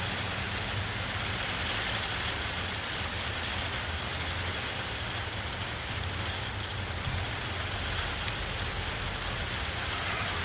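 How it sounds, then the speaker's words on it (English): Steady, loud rain pours without a break, a dense hiss filling the scene from start to finish with no voices over it. "That's weather, folks. That's weather. That's rain."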